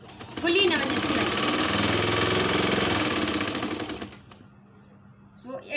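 A sewing machine runs steadily for several seconds, stitching the seam of a baby's nightie, its close mechanical hum and rapid needle rhythm filling the space before it stops and near silence remains.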